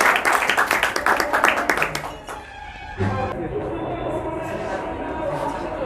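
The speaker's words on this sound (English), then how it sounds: "So ladies and gentlemen, please give a round of applause." Applause at a debate event: a burst of clapping that fades after about two seconds, followed by a speaking voice and a room hum.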